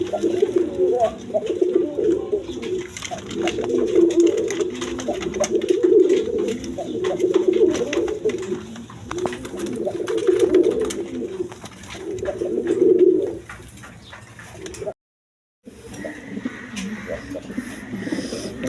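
A pair of Mundian pigeons in a breeding setup, the female sitting on eggs, gives repeated deep rhythmic coos in regular bursts, close and clear over a steady background hum, with a short dropout near the end.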